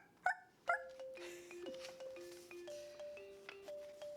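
A dog digging in a corner of a garden gives two short, happy barks close by, followed by soft chime-like musical tones.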